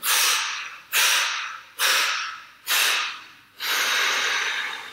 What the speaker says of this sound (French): Et puis vous soufflez.